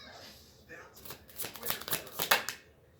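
Oracle cards are shuffled by hand in close, crisp riffling bursts that build and fade over a few seconds, with a voice speaking softly over them.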